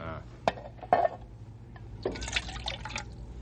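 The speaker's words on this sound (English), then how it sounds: "Me take water bag and help Ralph." Water from a water bag splashes and drips into a metal pan in a desert camp, two short sharp splashes followed by a longer trickling pour, close and fairly quiet.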